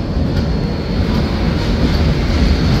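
The Howrah SF Express (12664) rolls at Kharagpur Junction with a loud, continuous rumble and rattle of carriages and wheels, heard from on board, with no talking.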